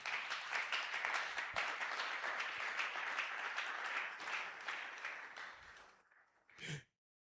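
Church congregation applauding during a Sunday worship service, a dense sustained wash of many hands clapping that fades out near the end, followed by a brief burst of sound.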